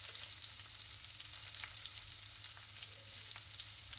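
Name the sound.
onions frying in oil with mustard seeds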